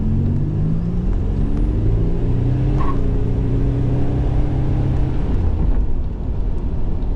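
A 1987 Buick Grand National with a big turbo pulls hard on a test drive, its engine drone steady and loud from inside the car with a rising whine partway through.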